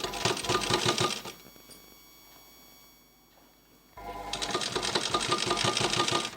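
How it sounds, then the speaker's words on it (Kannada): A sewing machine stitches thread piping onto fabric with a pressed foot, running loud and rapid for just over a second, pausing under a faint hum, then resuming for the final few seconds. "ನಾನು ಸ್ಟಿಚ್ ಮಾಡ್ತಾ ಇದ್ದೀನಿ"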